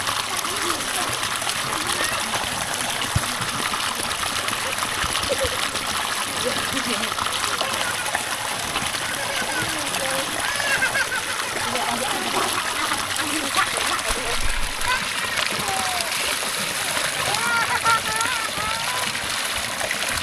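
Water splashes and trickles steadily as it is scooped up for drinking, a continuous wet gurgle with faint voices in the background.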